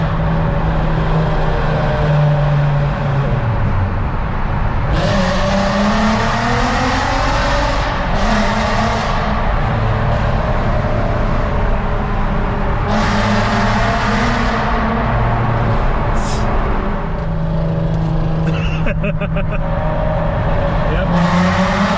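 A straight-piped VW Golf R32 booms through its loud, raw exhaust while driving, the engine note rising and falling steadily through gear changes with rasping surges, close and dominant throughout the drive.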